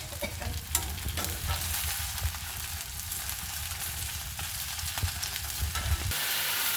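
Onions frying in a pan: a continuous sizzle with scattered spoon clicks and stirring scrapes at an uneven pace, close by, with a low rumble underneath and no speech.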